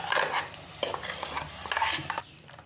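Ground coconut masala of chilli, coriander and cumin scraped and stirred into a clay pot for Kerala fish curry, a close series of soft wet scraping and sloshing sounds over a few seconds.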